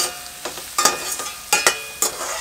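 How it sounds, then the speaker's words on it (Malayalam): Biryani masala sautéing in butter in a pan, with soft frying sizzle and scraping spoon strokes repeating every half second or so, close and alone with no talk. "അപ്പം ഞാനിതൊന്ന് നല്ലപോലെ ഒന്ന് വഴറ്റി ഉപ്പ് നമുക്കിടാം."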